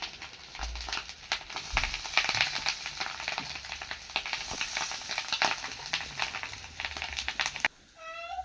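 Homemade vegetarian chow mein frying in a pan gives a steady, close crackling sizzle with scattered pops, ending in a brief whining tone.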